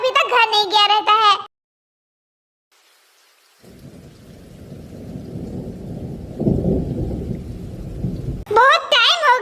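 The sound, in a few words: rain and thunderstorm sound effect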